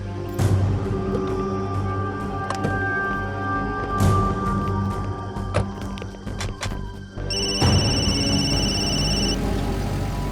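A telephone rings while a call is being placed in a TV drama, a brief electronic ringing tone near the end, following a stretch of clicks and background noise.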